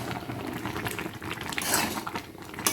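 Bori (lentil dumpling) pickle gravy bubbles in a pot as it reduces, a steady close hiss and burble with occasional metallic clinks from the pan.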